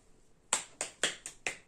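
Bonus clap from a clapping exercise: six sharp, bright claps in a quick, fairly even rhythm, close and clear with no talking.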